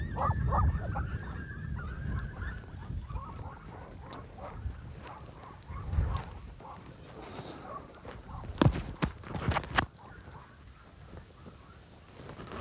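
A pack of fifteen hunting dogs runs across an open field, with scattered yips and barks over rustling movement and wind, fairly distant and uneven, with occasional louder bursts.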